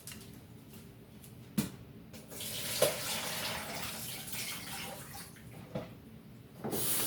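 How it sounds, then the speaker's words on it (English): Running water splashes and trickles as potatoes are rinsed in lemon water at a kitchen sink, a soft continuous flow punctuated by a few sharp knocks and clatters, fairly quiet and without speech. "I'm just going to rinse them in there now"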